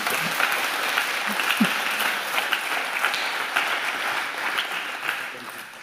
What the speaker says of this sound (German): Also erstmal einen großen Applaus.